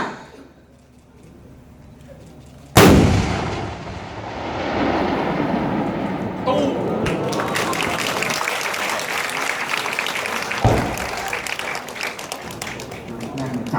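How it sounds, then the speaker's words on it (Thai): Artillery guns fire in a live-fire military demonstration at a triangular target on a hill: a sudden loud blast breaks a quiet start, followed by a long rumbling roar and another sharp report near the end. "ต่อไปจะได้ชมการสาธิตการยิงในตรงต่อเป้าหมายรูปสามเหลี่ยม บริเวณเนิน 100 หมู่ปืนพร้อมแล้วยิงได้"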